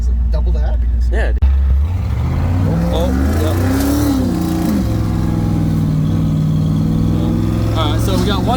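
A car with a welded differential spins a single rear tire in a burnout, the engine revving hard and loud with rising and falling pitch, a steady roar close by, and talk over it.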